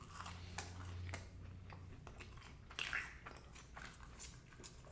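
Close crunchy chewing of Wendy's french fries, a few sharp bites and steady mastication alone with no talk, fairly quiet.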